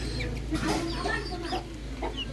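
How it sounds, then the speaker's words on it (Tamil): A fighting rooster clucks and warbles in short, uneven calls over a steady low hum and background noise, fairly close, with faint voices behind it. "இந்த கோழி பேர் சண்டைக்கோழியா? சண்டைக்கோழி அது."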